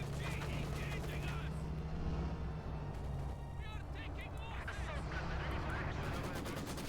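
Rattling machine gun fire and other battle noise in the WWII strategy game Company of Heroes 2, steady and dense throughout, with someone commentating over it.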